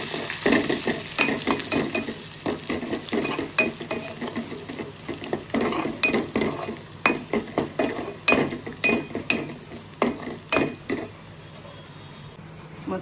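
Whole garlic cloves frying in a cooked masala paste of turmeric, Agri masala, garam masala and salt, with a loud sizzle broken by repeated scraping and clinking of a spoon against the pan.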